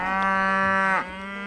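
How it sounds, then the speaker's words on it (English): Cattle lowing loudly and close by in a rural field, one long sustained moo with a rich harmonic tone that drops in pitch near the end, alone without talk. "hopefully these cows will shut up soon"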